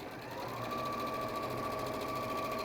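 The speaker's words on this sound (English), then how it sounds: "Start and finish with a reverse stitch on all of those corners." A sewing machine runs continuously at close range with a steady mechanical whir and rapid needle rhythm as it stitches bag seams, starting and finishing the corners with a reverse stitch.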